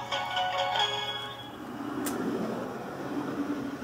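An Intel NUC D54250WYK mini PC plays the Intel jingle, a short tonal chime of a few bright notes at moderate level followed by a brief click and low hum, with no talking.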